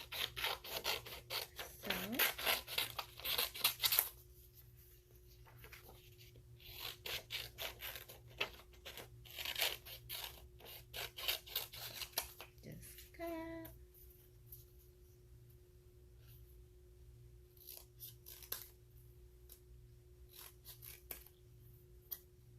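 Scissors cutting paper, a run of quick close snips and crisp rustles that is dense at first and then sparser, with a steady faint hum behind and a brief voice.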